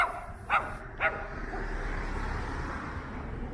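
Two quick, sharp barks from a small dog on a Toronto residential street ring out about half a second apart, then give way to a low, steady hum of passing traffic.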